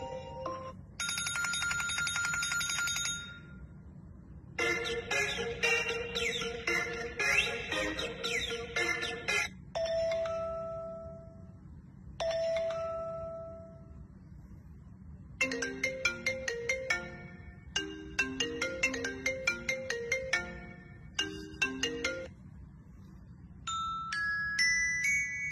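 A series of electronic phone ringtones play one after another, bright melodic tones and jingles in short bursts separated by brief silences; no speech.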